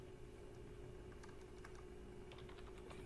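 Rapid keystrokes on a computer keyboard enter a short login password in two quick bursts, close and fairly quiet over a steady low background hum.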